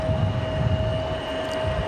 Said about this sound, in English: There's our Republic Airways coming in from Music City